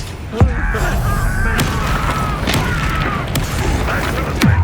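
A Bombarda blasting spell in Hogwarts Legacy explodes as a loud booming blast early on, followed by dense crashing game effects and clattering impacts, with a second heavy thump near the end.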